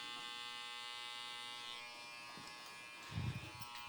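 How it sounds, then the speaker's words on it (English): An electric hair trimmer buzzing steadily and faintly while detailing a haircut, a continuous thin whine with a brief louder contact rustle near the end. "I'll do a little detail kind of with the trimmer"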